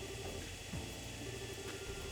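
A gas-powered engine runs in the Trails in the Sky video game, giving a steady, low mechanical hum with a constant droning tone and little variation across its short length, and no talking.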